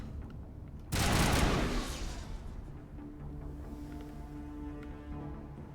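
A loud burst of assault rifle fire in Mass Effect Legendary Edition, a dense rattle that fades into a lingering echoing tail over low ambient game hum.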